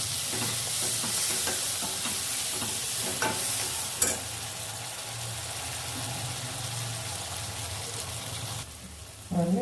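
Onions with coriander and mint frying and being stirred in a pan for chicken pulao, a steady close sizzle with scraping stir strokes throughout and a sharp clink near the middle.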